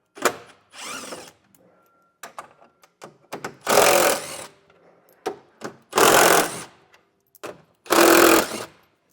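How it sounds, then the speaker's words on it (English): A ratchet with a 10mm socket removes screws from the front fascia of a 2024 Ford, buzzing in three short, loud bursts with small clicks and handling noises between them. "We'll take a 10mm socket and get those removed."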